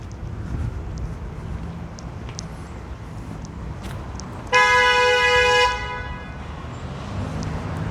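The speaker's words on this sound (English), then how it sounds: "People honking for no reason at all" A car horn blares on a San Francisco street in the Fillmore District, one loud, sustained honk lasting about a second amid steady city traffic noise, with quieter distant taps and engine rumble before and after.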